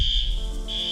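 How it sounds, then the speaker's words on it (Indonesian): A steady high-pitched electronic fire alarm tone sounds loud and continuous during an emergency evacuation drill, with a brief dip partway through before resuming. "Jika terjadi keadaan darurat, maka alarm tanda bahaya akan diaktifkan."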